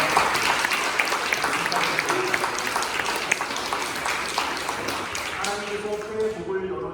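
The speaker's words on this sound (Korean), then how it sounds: "우리 한 박수로 또 한번 축하하겠습니다" Church congregation at a Thanksgiving Sunday service applauding together, a lively patter of clapping that gradually thins and fades as a voice begins speaking near the end.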